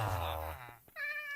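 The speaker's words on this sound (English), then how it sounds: "That is a cat!" A cat meows in the Minecraft video game, a clear tonal mew followed by a shorter, higher meow after a brief pause, loud and close with no talking.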